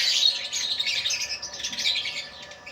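Iraqi pet birds chirp and call in a busy, overlapping stream of high twittering notes, moderately close and continuous, with no voices.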